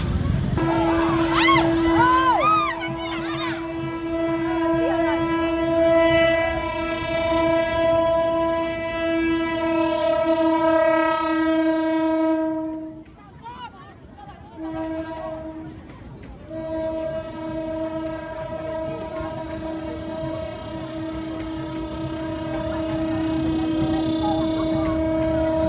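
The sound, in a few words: train passing on railway line in Pariaman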